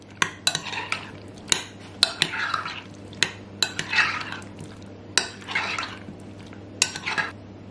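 Bacon crumbles being folded into a keto loaded cauliflower-style potato salad in a bowl, with a series of sharp utensil clinks and scraping stirs repeating every second or so, close and clear with no talking.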